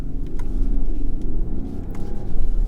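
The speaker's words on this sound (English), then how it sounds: "Makes a decent sound for a diesel. You know, it's a 6-spot." The six-cylinder diesel engine of a 2020 BMW X7 thrums loudly from inside the cabin on a country road, a dense pulsing growl that swells and eases with the throttle, no one speaking.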